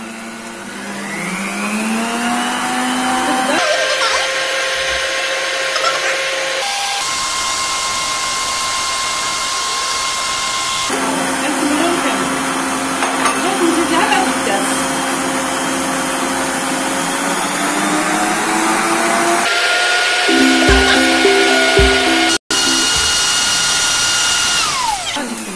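An electric hand mixer whirs steadily through cake batter with eggs for a marble cake, its motor pitch stepping up and down as speeds change, loud and close with a brief cutout near the end and no talking.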